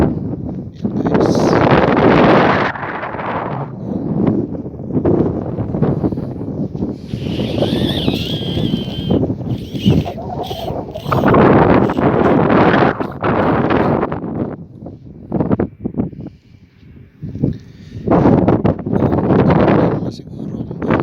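Gusty wind buffets the microphone outdoors beside a track, with loud rumbling bursts rising and falling throughout and a voice talking over parts of it.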